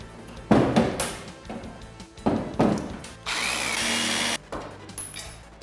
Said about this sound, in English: With these pop rivets on the top drilled out, we might as well continue the process along the frame rails on the side.